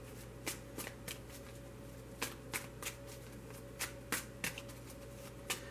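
Tarot cards are shuffled quietly in a series of quick riffling bursts, spaced irregularly over a soft background hum.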